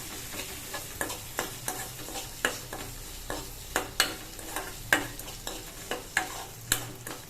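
A spoon scrapes and clatters around a pan in regular strokes while boiled suvarotti (goat spleen) sizzles softly underneath, close and unhurried.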